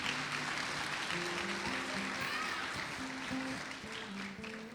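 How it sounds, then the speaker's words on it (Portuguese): Church congregation clapping together in a sustained round of applause, steady and fairly loud, with sung or spoken voices and organ-like tones running underneath. "Dê um aplauso ao Senhor."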